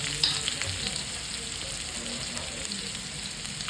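Onion frying in oil with curry leaves until golden brown for a quick onion-tomato chutney, a constant close sizzle with light stirring throughout.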